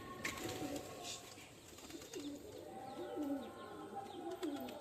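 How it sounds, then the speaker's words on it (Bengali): Pigeons cooing repeatedly at close range as they settle down to feed, soft throaty calls rising and falling in a steady rhythm with a few faint chirps in the background. "সব পায়রা নেমে যাচ্ছে খাবারের লেগে"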